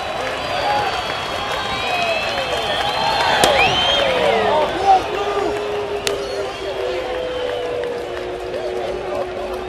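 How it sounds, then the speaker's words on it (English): Baseball crowd at a Brewers–Marlins game in Florida, on their feet and roaring at a two-strike count, a broad sustained stadium noise with a play-by-play voice talking over it. "crowd on their feet"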